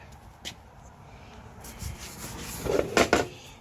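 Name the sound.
dusting the back of a wooden cutting board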